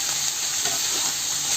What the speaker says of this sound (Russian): Филе нужно обжарить с луком